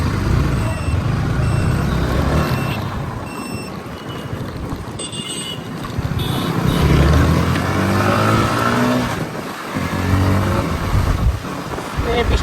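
Busy road traffic in the rain, with many cars and trucks passing: a continuous rumble of engines and tyres, with occasional tonal beeps and swells as heavy vehicles go by nearby.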